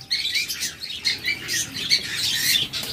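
Lovebirds, cockatiels and budgerigars on a crowded bird farm chirp and squawk continuously, many birds calling at once in a busy, overlapping chorus with no talking.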